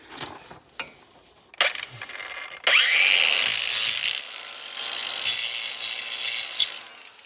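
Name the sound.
angle grinder smoothing edges of old flail mower blades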